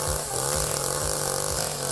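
A chainsaw runs continuously as an artist carves a log, its loud high-pitched engine whine close and steady with slight rhythmic pulsing as the blade cuts.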